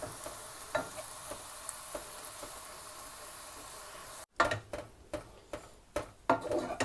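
Cooked chicken is pulled apart with a fork, giving soft scraping and tapping scratches, faint at first and then sharper, irregular clicks close by.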